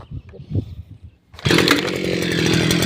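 A Forte MKB-25LUX motor cultivator's small petrol engine is pulled over after some low handling noise, then catches and roars into a loud, steady chainsaw-like run that fills the rest of the moment.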